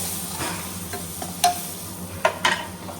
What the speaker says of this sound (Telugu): ఇప్పుడు ఇందులోకి కరివేపాకు కూడా వేసుకోవాలి.